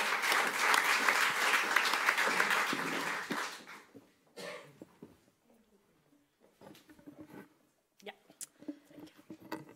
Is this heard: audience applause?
yes